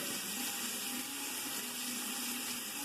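Water runs steadily from a tap while skincare product is rinsed off the face, a soft continuous hiss and splash with no pauses and no speech.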